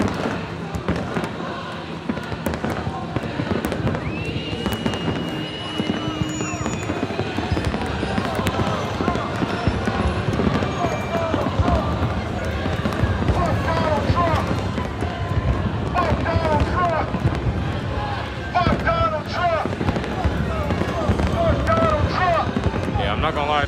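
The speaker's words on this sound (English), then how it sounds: "there's some nice fireworks" Fireworks crackle and pop repeatedly during a street riot outside the White House in Washington DC, a busy spread of bursts over crowd noise while people talk nearby.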